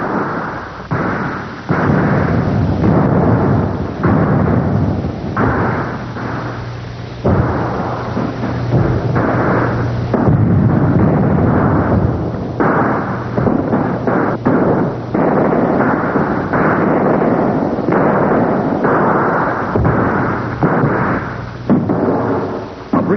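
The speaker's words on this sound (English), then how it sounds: "American and French gunners laid down a devastating bombardment." Heavy artillery cannon bombardment from the Battle of Yorktown, with American and French guns firing: a continuous, loud roar of deep booms and rumbling blasts rolling one into another with no pauses.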